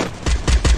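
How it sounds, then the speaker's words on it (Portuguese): Gunfire in an online battle game, three sharp, evenly spaced shots in quick succession, loud and close. "Um tiro em cada um."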